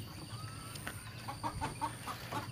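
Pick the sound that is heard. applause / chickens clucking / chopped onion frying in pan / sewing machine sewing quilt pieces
chickens clucking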